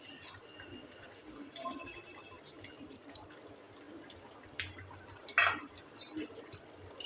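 Sugar is stirred into narthangai pachadi in a pot, with scraping, clinking spoon strokes and soft liquid movement over a quiet background, plus a sharper knock near the end.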